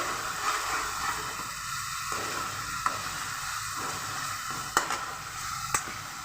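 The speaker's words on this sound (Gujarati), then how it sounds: "આ રીતે આપણે ટામેટાની પ્યુરીને બરાબર સાતળવાની છે તેલ છૂટું પડે ત્યાં સુધી" Tomato puree sautéing in hot oil until the oil separates, for a dhaba-style chana dal curry: a steady, moderately loud sizzle with a few sharp spoon scrapes and clicks from stirring.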